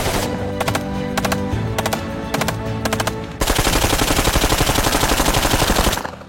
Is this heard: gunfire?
yes